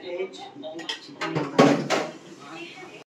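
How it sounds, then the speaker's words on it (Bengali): A mother washing dishes, pots and pans in a home kitchen, with scattered clanks and clatters of metal and utensils, one louder crash midway, close by and irregular. "মা সেই বাসনগুলো ধুচ্ছে"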